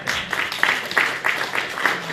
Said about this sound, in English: So we want you to give yourselves a round of applause.